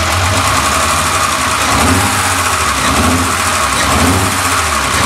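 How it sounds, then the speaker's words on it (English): BMW E30 engine with a bad misfire being revved, a steady loud running drone with an uneven, rough pulsing through the whole stretch, close to the car, no talk. "You can hear it better if I rev it."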